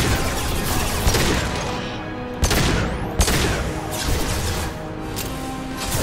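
Sci-fi shooter gunfire in Mass Effect 2 combat: dense, continuous bursts of shots with a few sharper cracks standing out, loud and busy with no talk over it.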